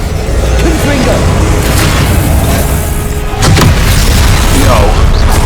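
A Confringo fire spell explodes in a Harry Potter video game, a loud booming burst landing about midway through a dense, continuous wash of game noise and effects.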